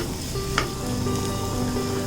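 Spices and garam masala frying in a pan while being stirred into an onion samosa filling, a steady close sizzle throughout with one brief scrape of the spoon.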